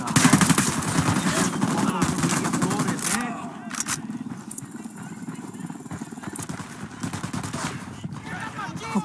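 Gunfire in the Ghost Recon video game, with rapid bursts of automatic fire over a busy battle mix that also carries game voices and talk.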